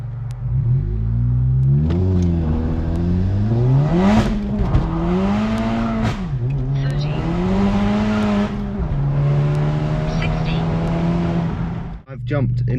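A stage 3 IS38 Polo GTI accelerates hard from a standstill, its engine climbing through the gears in rising and falling sweeps, loud and close from inside the car, with talk mixed in.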